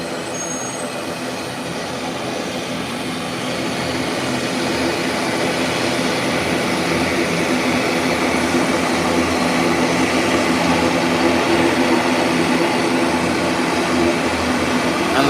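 The turboprop engines of an ATR 72 airliner at an airport produce a steady, loud roar that swells after a few seconds and then holds continuous to the end.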